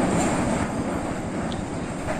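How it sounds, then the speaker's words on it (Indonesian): The Lodaya passenger train rolls across the Cirahong bridge with a dense, steady rumble of wheels and carriages, loud and close throughout. "sudah terlihat kereta api Lodaya yang akan segera melintas di jembatan Cirahong"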